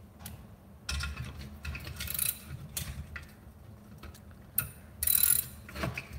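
A socket wrench ratchets on bolts of a Predator 212 small engine during reassembly, giving close, faint clicking bursts in short irregular runs separated by pauses.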